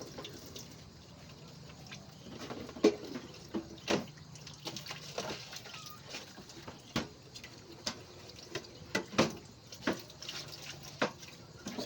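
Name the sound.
running tap water rinsing a plate while washing dishes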